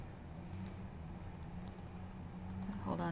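A computer mouse clicks on a slideshow, giving a few faint, sparse clicks over a quiet background hum, with a soft voice speaking near the end.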